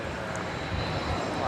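Iberia jet airliner at DFW Airport at sunset, a steady broadband engine roar that fills the whole clip at moderate distance, with no talk over it.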